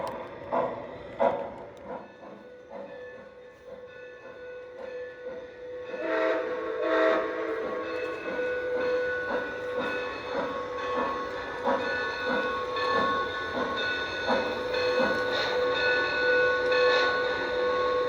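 A Lionel TMCC Pere Marquette 1225 model steam locomotive pulls away, with a rhythmic chuffing and mechanical clatter that builds over time, plus whistle-like tones, close and with no voices.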